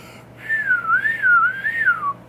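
A 90s candy whistle is blown in one steady, loud, close tone that wavers up and down in a slow warble for about two seconds before stopping.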